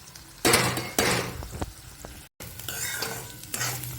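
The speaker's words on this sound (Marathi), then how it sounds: "हे आता मस्त मिश्रण आपण मिक्स करून घेऊया सगळं" Upma mixture with salt and sugar being stirred and mixed in a hot pan, with bursts of scraping and sizzle, a few metallic clanks of the spoon against the pan, close and loud, no speech.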